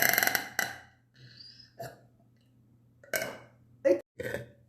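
A person burps several times after drinking Brahma Zero beer, loud close belches in a run of separate bursts with short quiet gaps between them.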